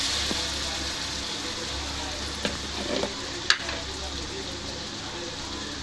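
Mutton curry fries in a pan as chili powder is added and stirred, a continuous sizzle with scattered scraping and tapping of the spoon and one sharp clink, over a low steady hum.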